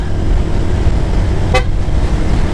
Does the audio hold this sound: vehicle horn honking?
yes